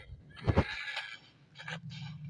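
A donkey in the Survival Craft video game brays, one harsh, nasal outburst with two strong pulses followed by fainter trailing calls, fairly close and clear.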